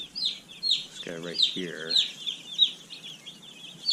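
Newly arrived mail-order baby chicks peep in a brooder, with repeated short high-pitched cheeps running steadily throughout, while someone speaks briefly over them.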